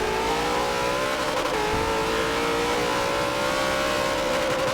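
A race car engine howls under hard acceleration during a race, loud and close, its pitch rising and wavering with a brief dip around a shift, with no voices heard.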